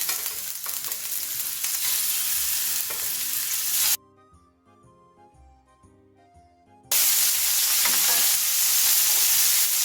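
Bacon-wrapped shrimp frying in a pan of rendered bacon fat, a loud steady sizzle and crackle that drops to near silence for about three seconds, then resumes just as strongly.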